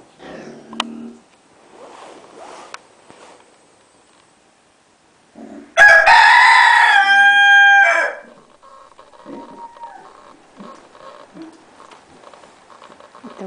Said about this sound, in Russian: Это вот этот китайский петух и поет.